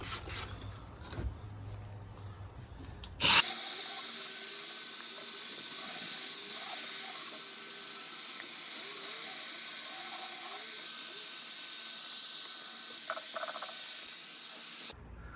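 Wet sanding of a vehicle headlight with 800 grit sandpaper on a Land Rover LR3, a steady close hissing scrub running for many seconds after a sharp start, fairly constant in level and then stopping abruptly.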